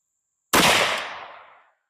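A single .45-70 Government rifle shot from a CVA Scout V2, a sharp loud crack that booms out and tails off over about a second, alone with no talk.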